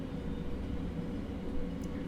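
A Class 700 electric train runs in Train Simulator, a steady, faint rumble of wheels and traction hum with no distinct events, heard alone.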